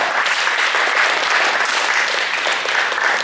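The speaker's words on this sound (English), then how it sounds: "go ahead and give them all a big round of applause" An audience at a high school post-prom show gives a loud round of applause, with many hands clapping close and steadily throughout and no speech breaking through the noise.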